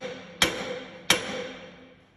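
Two sharp metallic hammer strikes on the brake anchor pins of a semi truck or trailer, spaced under a second apart, each ringing briefly before fading.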